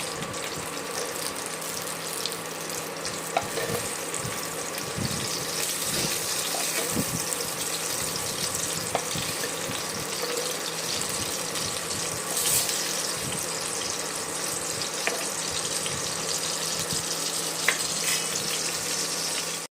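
Eggplant slices fry in oil in a pan, a steady, dense hiss of sizzling that runs unbroken throughout, with faint scattered pops and clicks beneath it.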